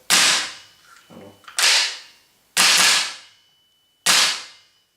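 A Cyber Gun SCAR-H gas blowback airsoft rifle fires four sharp, loud single shots, each a crisp crack with a short, fading tail, spaced about a second or more apart.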